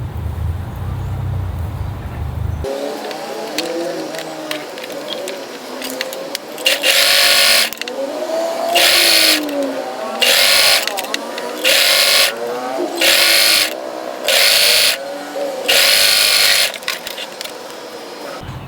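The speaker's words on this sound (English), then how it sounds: "I sew here at around 5 millimeters" A sewing machine stitches a seam on a tie-front top in loud, rapid whirring bursts of a second or so, separated by short pauses, with a voice talking at the start.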